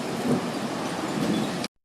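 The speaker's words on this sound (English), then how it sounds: "Here comes the hail." Dense hail and rain pound down during a tornado-producing thunderstorm in Joplin, Missouri, a loud, continuous roaring hiss that cuts off abruptly at the end.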